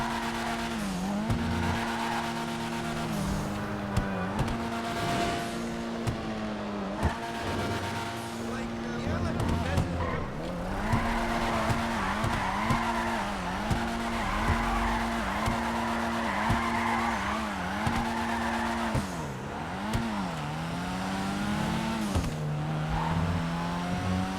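A Vapid Uranus LozSpeed with bulletproof tires drives in GTA Online, its engine revving up and down repeatedly through gear changes while tires squeal and skid in long slides, with someone talking over it.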